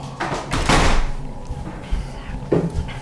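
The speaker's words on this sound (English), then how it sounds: "I'm just gonna close that door really quick." A door is closed in a room: a loud, close thud in the first second, then softer knocks and a second, smaller bump as it settles.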